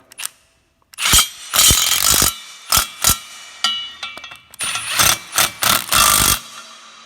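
A power tool tightens a bolt on an engine motor mount bracket on the block of a rebuilt Polaris Ranger 800 crew engine, in several short, loud bursts with pauses between them.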